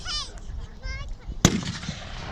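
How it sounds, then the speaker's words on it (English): A Civil War reenactment battle with Confederate musket fire: one sharp, loud report cracks out after a voice talks over distant background noise. "I'm going to think the Confederates are doing some volleys now."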